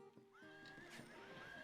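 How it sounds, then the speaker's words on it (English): A horse in a fantasy video game gives a clear, loud neigh, a rising and wavering whinny under faint hoof clops. "please don't kill us, Mr. Horse"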